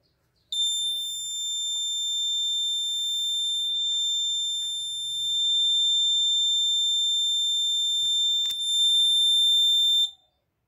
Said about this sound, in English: Code incorrect. Alarm on.